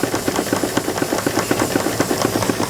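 A miniature toy steam engine runs steadily, giving a fast, regular chuff and clatter with an even rhythm and a constant hiss of steam close by.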